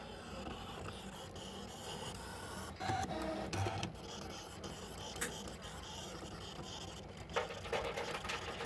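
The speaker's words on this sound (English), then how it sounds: "let me shut up and y'all listen to how this thing is cutting" Electronic cutting machine, an alternative to a Cricut, slicing material with a steady low mechanical whir and occasional scraping swells, fairly faint and continuous, no talking.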